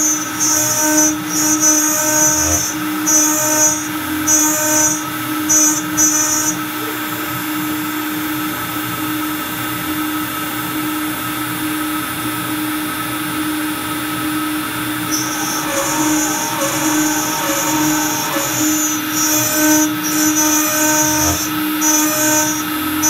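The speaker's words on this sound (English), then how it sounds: "So here's what a 1/8 inch end mill does, and it's better. It still doesn't sound great." An OpenBuilds MiniMill drives a 1/8 inch end mill through aluminum with a loud, steady motor whine, overlaid by a high-pitched cutting screech that comes in stretches, pauses, then returns near the end.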